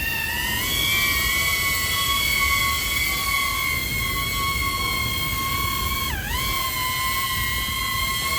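A BETAFPV Aquila 20 HD FPV drone spins up for takeoff with a steady, loud, high-pitched motor whine that holds nearly constant and then dips briefly in pitch before recovering, close and alone.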